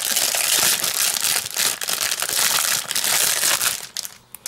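Packaging of a Diamond Press "Walk in Faith" stamp and die set being opened, a loud continuous crinkling and crushing of plastic wrap that rustles steadily throughout, easing off near the end, with no talk.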